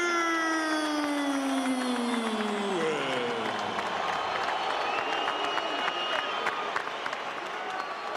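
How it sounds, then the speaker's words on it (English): A big crowd cheering and applauding at the Staples Center before a heavyweight boxing fight, a dense steady roar with a loud descending tonal announcement or music over it at first. "Great atmosphere and a big crowd at the Staples Center for what could be a dramatic fight."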